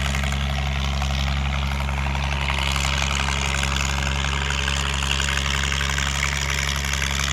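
Car engine idling with its gearbox running and a turbo that has not worked for two years, giving a steady, unbroken low drone and hum throughout.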